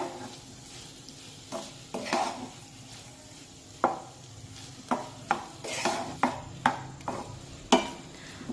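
A spoon stirs potato fasting curry in a pan. Distinct scraping clinks come every half second or so over a faint sizzle, close by and without voices.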